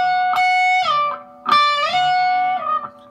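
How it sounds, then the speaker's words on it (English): A distorted electric guitar plays a double bend, pushing the pitch up two full steps and letting it fall back. Two long, close, loud bends ring out with sliding pitch and no voice. "So now we're going to do a double bend"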